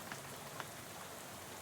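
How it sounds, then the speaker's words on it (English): Rain from the video game Shadows Over Loathing spatters against a bus window in a steady, soft hiss, with a few light drop taps standing out. "dozing off to the sound of rain spattering around the window beside you"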